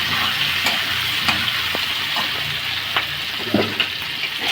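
Beans fry lightly in a pan with a steady sizzling hiss, punctuated by several soft scrapes and taps of a spatula stirring them.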